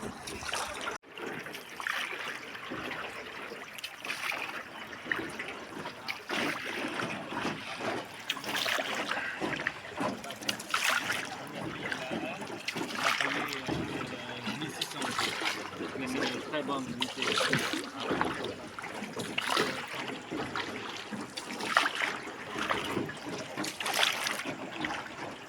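Tour boat ride on the river at Tam Coc, Vietnam, with continuous water trickling and splashing around the hull and oars, close and steady, while people talk over it throughout.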